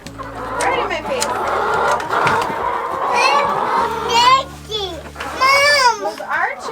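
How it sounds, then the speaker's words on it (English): Chickens cluck softly in a greenhouse yard while children chatter and speak loudly close by, the birds' calls partly buried under the voices. "Those are chickies."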